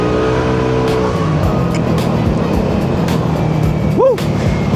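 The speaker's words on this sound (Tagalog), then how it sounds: "Medyo traffic na mga tol." Busy road traffic heard from a motorbike ride out of Manila, a continuous loud engine and road rumble with cars passing close by, and a brief horn-like rising tone near the end.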